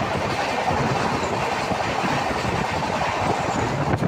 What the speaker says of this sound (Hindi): ये शायद सुपर फास्ट स्पीड से हमारी crossing Malda town intercity express से हो